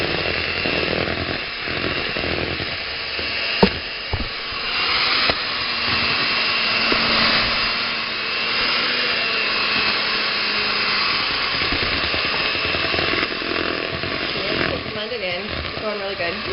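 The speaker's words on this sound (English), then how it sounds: "we're going to use the mixer for as long as we can" An electric hand mixer whirs steadily through thick zucchini brownie batter, a continuous loud motor drone that labours slightly as it works, with a person talking over it.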